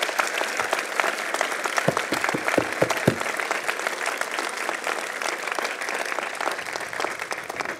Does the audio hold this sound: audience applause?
yes